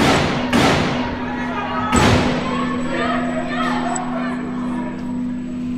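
Single gunshots fired one at a time, not in bursts, during the Bataclan attack, captured in recorded footage: two or three sharp, loud reports spaced about a second apart over a steady background hum, with a murmur of voices.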